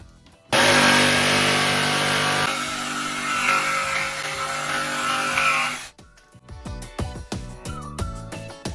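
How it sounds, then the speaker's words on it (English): A jigsaw cuts through a wooden board for a homemade dirt bike, a loud, harsh, sustained buzzing cut lasting about five seconds before stopping abruptly, followed by quieter clattering and handling sounds. "I'm gonna cut it with the jigsaw real fast and see how it looks."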